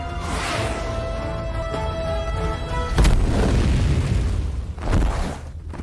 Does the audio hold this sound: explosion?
yes